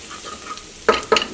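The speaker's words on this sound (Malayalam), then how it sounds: "അപ്പോൾ മല്ലിപ്പൊടി നന്നായിട്ട് മൊരിച്ചിട്ട് എടുക്കുക" Coriander powder roasts in oil for an egg masala, a low hiss at first, then two loud bursts of scraping and sizzling as a spoon stirs through the pan up close.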